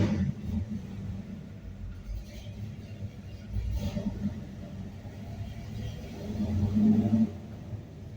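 A 1964 big block car engine driving, a low rumbling drone that swells slightly as the throttle opens, heard from inside the car at moderate volume with no talking.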